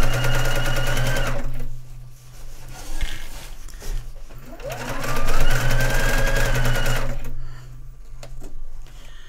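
A sewing machine stitches a dog bed, running in bursts of steady whirring that stop and restart, with some handling noise between runs.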